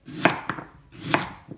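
A knife slicing through a turnip on a cutting board, two crisp cuts each followed by a softer tap, close and clear with no talking.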